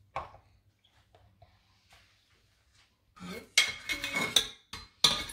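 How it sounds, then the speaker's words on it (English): Vegetables and lentils get stirred in a pot with a utensil, starting with quiet scattered taps and then turning into loud, close scraping and clinking in uneven strokes. "Keep stirring. Keep stirring."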